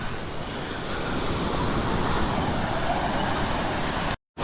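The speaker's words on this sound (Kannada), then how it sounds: "ನೋಡಿ ಅಲೆಗಳು ಸದ್ದು ನೋಡಿ ಕೆಲ್ಸ್ಕೊಳ್ಳಿ" Surf at Kaup beach near Udupi, Mangaluru, makes a continuous rushing roar of breaking waves mixed with wind noise, steady and fairly loud, cutting off abruptly near the end.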